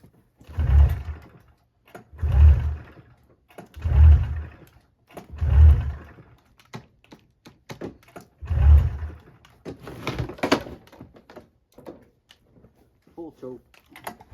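Someone tries to start an old snowmobile engine with the choke on, making five heavy, evenly spaced pull-cord cranks that do not catch. A person then speaks over scattered clatter and handling noises.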